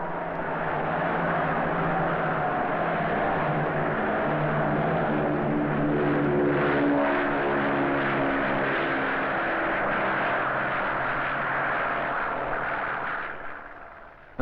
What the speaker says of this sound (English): A Shackleton will reconnoiter the area.